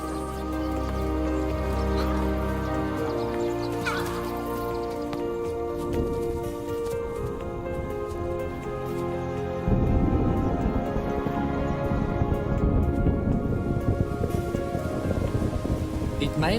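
Steady rain pours down, a dense hiss with scattered drops, growing heavier and louder partway through; low rumbles suggest distant thunder.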